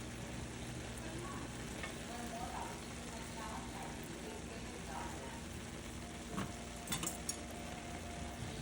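Onions cooking down in a pan give a faint, even sizzle against a low background hum, with a few soft clinks of stirring near the end and a voice at times.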